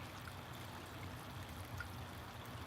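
Water trickles steadily down a vertical aquaponics tower, dripping from one planter level to the next in a soft, continuous, fairly faint flow with no talking.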